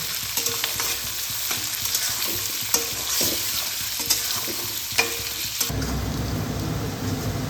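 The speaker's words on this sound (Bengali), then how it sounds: "যে আলুটা পেঁয়াজের সঙ্গে ফ্রাই করে নেব" Thinly sliced potatoes frying with onion and a little salt in a pan, a steady crackling sizzle broken by scraping stirs and soft clunks of the spatula, then a sudden deeper, louder sizzle near the end.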